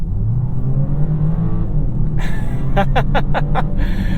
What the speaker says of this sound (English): go into Sport, go into S, and mat the accelerator